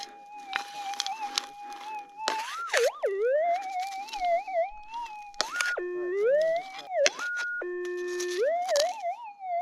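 Metal detector sounding over junk metal such as lead or copper while detecting underground in a hard rock gold mine, a loud warbling electronic tone sliding up and down in pitch with sharp bursts, close and continuous.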